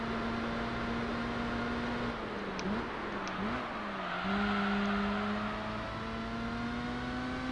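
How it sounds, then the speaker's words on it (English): Mazda RX-7 in Gran Turismo 3 drifting wide on worn tyres, the engine holding a steady whining drone that dips and wobbles as it slides, with a continuous tyre squeal and hiss underneath. "Drifting super wide, yeah, the tyres are starting to give out a little bit."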